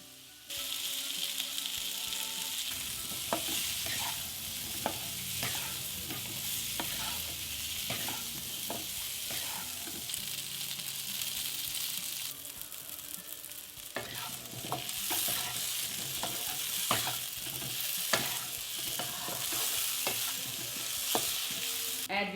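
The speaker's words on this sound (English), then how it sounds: "Open cook them until the onions are cooked and the baby potato skin begins to shrink." Onions and baby potatoes cooking on a low flame for an Assamese-style catla fish curry, stirred with repeated scraping strokes over a continuous hiss of frying oil, close by, with no talking.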